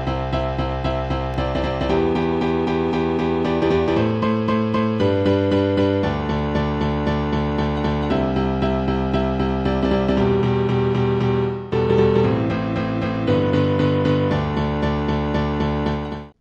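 Electronic melody and chords built in FL Studio: a steady, bright synth lead over sustained chords, playing continuously at full loudness with a brief dip near the end of the phrase.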